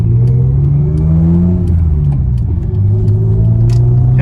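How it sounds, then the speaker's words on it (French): A BMW E30 320i six-cylinder engine revs loudly and close, its deep tone rising and falling in smooth swells with a throaty rumble throughout. "écoutez-moi ça, cette mélodie là du 6 cylindres"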